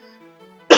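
One sharp, loud cough bursts out near the end from a person still recovering from a cold, after a stretch of quiet low hum.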